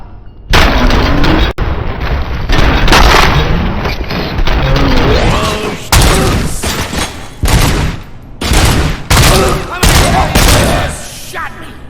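Loud, dense bursts of gunfire and booms in RoboCop: Rogue City, volleys crackling over a raised voice with brief pauses between rounds.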